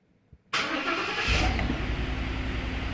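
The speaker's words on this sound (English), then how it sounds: "Oh, look at that, the truck starts." Engine of a 2021 Ford F250 pickup truck cranking and catching abruptly after a faint click, then settling into a loud, steady low idle close by, with no talk.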